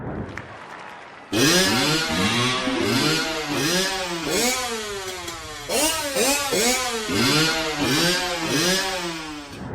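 A cartoon dirt bike engine revs in rising and falling swoops, loud and close, its pitch bending up and down in a rhythmic, tune-like pattern through the whole stretch.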